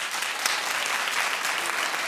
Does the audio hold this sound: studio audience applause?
yes